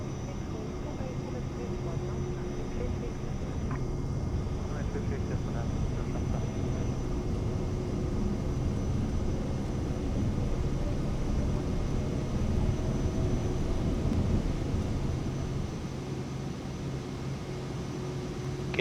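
A Cirrus Vision Jet takes off in Microsoft Flight Simulator 2020, with a steady, even jet-engine drone and rushing air holding at one level throughout, with no clear rise or pause.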